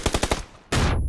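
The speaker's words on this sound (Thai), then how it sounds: "เจลลอฟยิงไปต่อ" Bursts of automatic gunfire in a competitive first-person shooter match: a rapid string of four close, loud shots, a brief pause, then a sustained blast of fire.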